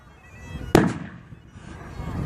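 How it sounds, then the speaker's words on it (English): A single sharp mortar shot thumps out at a WW2 reenactment battle, a brief loud crack with a short rumbling tail, set against faint outdoor background noise. "Oh, the Americans are now mortaring as well. We've got a mortar battle going on."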